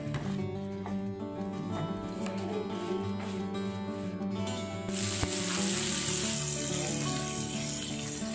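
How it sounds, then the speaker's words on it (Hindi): Food fries in a pan for a Bengali breakfast of daal puri, a steady hiss of sizzling oil that swells louder partway through, heard with background music and no talking. "तो चलिए अब इसको फ्राई कर लेते हैं।"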